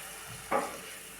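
Puris deep-frying and puffing in hot oil: a steady low sizzle with one brief louder crackling burst as a puri swells, heard alone without talk.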